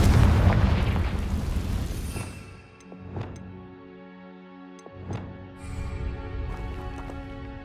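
Bombarda and Confringo spells explode in Hogwarts Legacy, a big rumbling blast that decays into ringing magical tones, followed by two smaller bursts with shimmering chimes over a low ambient game score.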